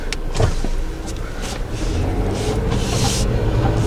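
A Jeep rumbles across the wooden Wehr's Covered Bridge in Pennsylvania, a steady close engine and tire drone punctuated by a few brief clattering thumps as it rolls over the planks.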